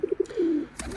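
Pigeons in a backyard coop coo close by: three short, rounded notes in a quick row, then one longer drawn-out coo, with a soft rustle near the end.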